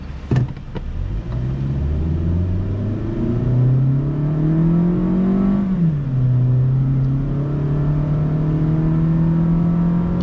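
A 2023 Mazda2 1.3 SP sedan accelerates hard during a dry brake test. The engine note climbs steadily, drops briefly at a gear change, then keeps pulling at a steady drone, heard from inside the car with no talking.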